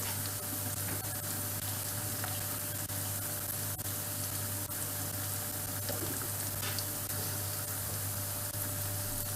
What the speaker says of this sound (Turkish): Şöyle kavrulsun yağda.